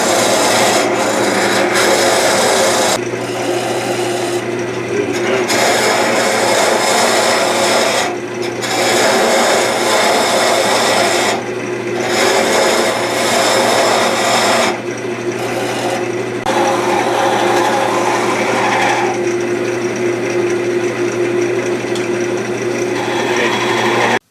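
A square wooden pen blank being turned round on a lathe with a roughing gouge, a loud continuous rasping and scraping with repeated short breaks as the tool lifts off and bites again.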